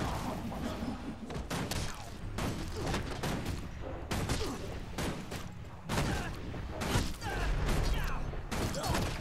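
Rapid bursts of gunfire and impact thuds in Guild Wars 2 combat, dense and continuous with repeated shots, crashes and mechanical clanks, loud and close throughout.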